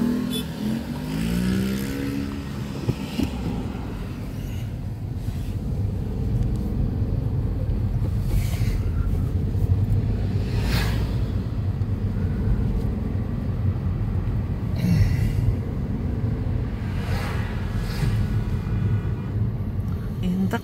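A car on the coastal drive from Cannes to Nice gives a long, steady engine and road rumble with occasional louder swells, while a voice talks over it at moments.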